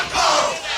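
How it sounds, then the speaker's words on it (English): A wrestling crowd cheers loudly for Rey Fury during a PWA All-Star Title match, a sustained roar of voices close and full throughout. "Crowd certainly behind Rey Fury here."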